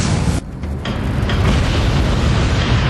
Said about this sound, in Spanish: Una enorme explosión sacude la refinería British Petroleum en la ciudad de Texas.